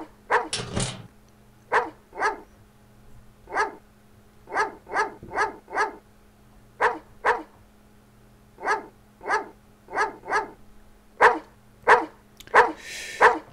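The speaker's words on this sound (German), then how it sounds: "Er ist nicht bestechlich, der Hund. Und der bellt weiter in eine andere Richtung." A dog barking in the video game Phantasmagoria, a long series of sharp single barks spaced at irregular intervals, loud and close, with a few quicker pairs and no talk over it.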